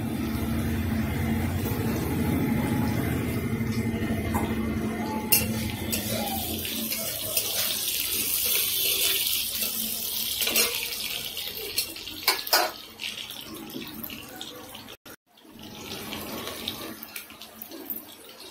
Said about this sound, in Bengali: এবার এর মধ্যে একটু হালকা জল দিয়ে একটু মশলাগুলোকে ভালো করে মিশিয়ে নেব